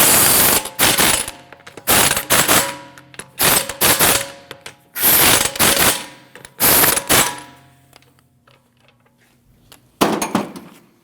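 A ratchet rapidly clicks as it tightens lug nuts on a 2022-2025 Lexus NX350 rear wheel, loud close bursts repeating about six times with brief pauses between.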